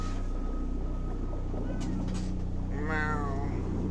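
A cat meows close by, a rising and falling harmonic cry near the end, heard over a steady low hum and faint background noise.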